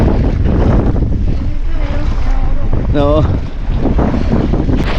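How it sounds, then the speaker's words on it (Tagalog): Big sea waves and strong wind batter a fishing boat off Cavite, Philippines, as a loud, constant roar of wind rush and water. A short spoken word and a brief tonal squeal cut through midway. "Ito kalalaki ng alon."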